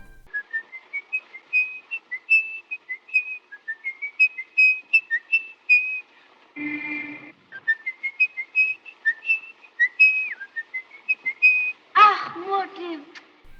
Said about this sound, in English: a child murderer who has a habit of whistling Edvard Grieg's in the Hall of the Mountain King